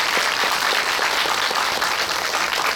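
An audience at a cinema talk event applauds the two actors with loud, continuous, dense clapping that stays even from start to finish.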